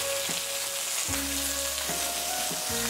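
Garlic cloves fry in hot oil in a pan for a mint and coriander chutney, giving a constant close sizzle broken by a few clanks and scrapes, with no talking.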